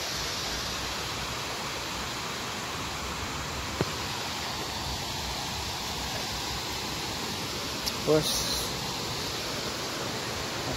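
River water flowing steadily in a mountain park, a broad, even rush filling the background with no distinct splashes, fairly faint and continuous throughout.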